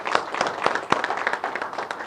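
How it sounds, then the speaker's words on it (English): Audience applause in a room, a dense burst of many hands clapping close by, steady and lively across the whole moment with no talking over it. "Give her a round of applause."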